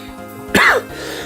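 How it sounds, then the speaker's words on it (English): A woman's single sharp cough bursts out loudly and close for about a quarter second, then gives way to quiet room tone. "I had a coughing fit."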